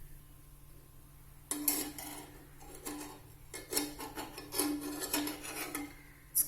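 A spatula scraping and flipping an adai on a well-seasoned older tawa: after a quiet start, a series of close metallic scrapes and rasps, with a faint steady hum underneath.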